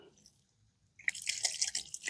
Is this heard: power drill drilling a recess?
no